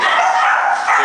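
Labrador puppies from a litter at a crowded farm yip and bark in a dense, high-pitched chorus, close and loud, continuous for about a second.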